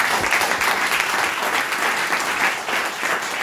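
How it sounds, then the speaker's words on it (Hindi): Loud audience applause at a direct-selling seminar in Waidhan, Singrauli, dense steady clapping filling the room from start to finish with no talk over it. "एक बार जोरदार तालियां हो जाए मेरी प्लान के लिए।"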